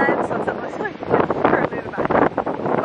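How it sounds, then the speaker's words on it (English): Strong wind buffets the microphone in loud, rumbling gusts while a person talks over it outdoors in Puerto Rico. "it's literally so freaking windy outside"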